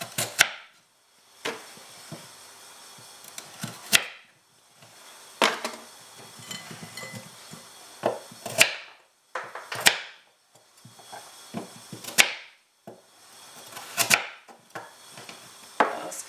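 A knife chops carrots coarsely on a board in spaced, crisp knocks, sometimes single and sometimes in quick pairs, close and clear with quiet gaps between.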